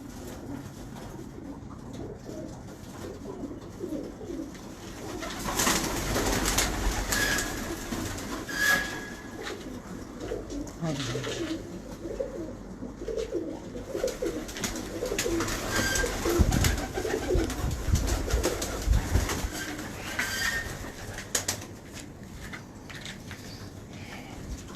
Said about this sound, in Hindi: ये देखो मेरे पास ये एक कसूरी ब्लड लाइन का कबूतर है